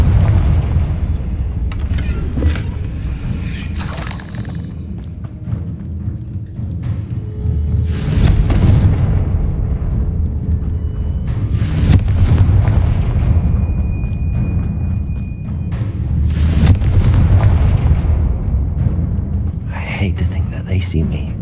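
Confringo spells explode repeatedly in a Harry Potter video game, deep booming blasts and thuds rising out of a constant low rumble, with a voice talking over the fighting.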